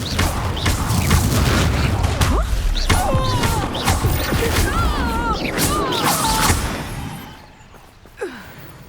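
Confringo fire-blast spells crash and boom repeatedly in Hogwarts Legacy combat, loud smashing impacts amid game effects, fading near the end with a final thud.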